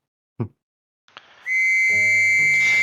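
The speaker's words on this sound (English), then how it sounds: "Gives his own signal whistle back in acknowledgement." A signal whistle blown back in acknowledgement: a short breathy puff and a brief click, then one long, steady, loud whistled tone that holds close and clear to the end, with no voices.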